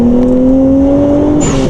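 A Nissan Skyline R34 accelerates hard, engine note climbing steadily and loudly up close, then shifting gear with a sharp change near the end.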